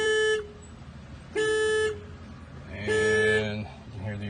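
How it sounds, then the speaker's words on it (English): Factory alarm on a 2018 Hyundai Sonata push-to-start sedan honking in bursts: three loud horn blasts with pauses between them, the last one longer, followed by a fainter fourth toot. "And you can hear the alarm's active."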